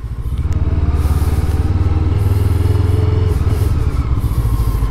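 FKM Expres 500 SC motorcycle engine running steadily close by, a loud continuous throbbing rumble with a fast pulsing beat and a slight rise in revs partway through, with no talk over it.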